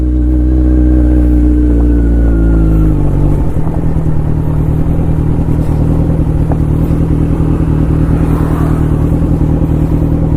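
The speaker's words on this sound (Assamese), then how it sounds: "ইয়াৰ এক্সজষ্টৰ চাউণ্ডত আপোনালোকে শুনিছে চাগে।" A Kawasaki Z900 motorcycle ridden on an open mountain road near Pasighat, Arunachal Pradesh, gives off a loud, steady exhaust drone whose pitch shifts early on, then holds a constant rumbling cruise with wind noise throughout.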